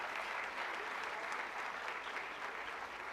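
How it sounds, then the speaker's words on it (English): A crowd at a school Grandparents Day event claps steadily and fairly loudly throughout, a dense, continuous round of applause with no pauses. "So if we can have a big round of applause."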